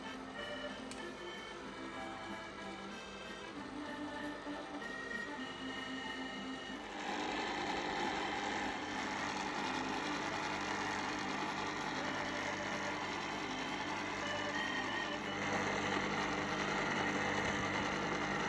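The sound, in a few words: sorbet machine running while making lemon sorbet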